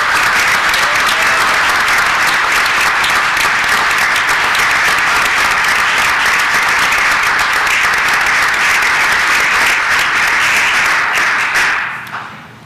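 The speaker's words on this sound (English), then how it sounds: "Let's applaud that." Loud, sustained applause from an audience at a city council meeting, a steady wash of clapping that holds evenly and then drops off sharply at the very end.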